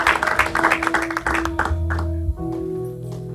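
Church congregation clapping hands during an evangelical Sunday service, a brisk run of overlapping claps that thins out and fades as a sustained music tone carries on.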